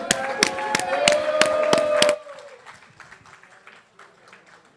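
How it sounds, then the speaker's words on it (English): An audience claps in a steady, even rhythm over music at a cigar event broadcast, then the clapping suddenly drops away to faint scattered sound. "Everyone give a big round of applause for my good friend"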